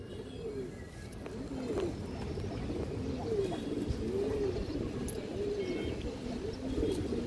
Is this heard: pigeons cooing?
yes